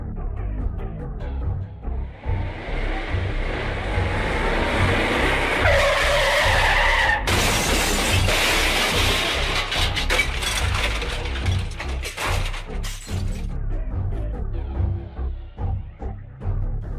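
Brickfilm sound effect of a truck skidding and crashing through, a long loud tire screech building over several seconds into a burst of crashing noise, then rumbling that tapers off toward the end.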